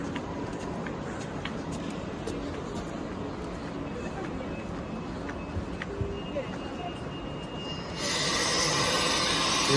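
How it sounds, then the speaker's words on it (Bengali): A train stands at the elevated Dresden Mitte station, its rolling and rail noise steady and moderately close, with a brief metallic squeal and a rise in noise near the end, as voices carry in the background. "ট্রেন দাঁড়িয়ে আছে"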